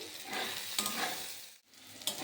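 Eggplant pieces seasoned with salt and turmeric fry in oil in a kadai, a soft, fairly quiet continuous sizzle with a few stirring scrapes.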